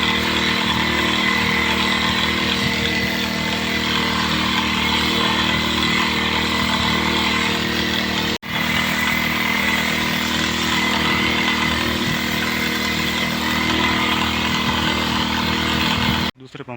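A petrol engine spray pump drones loud and steady, close by, while spraying a red onion field, its running note unbroken apart from one brief dip midway before cutting off at the end.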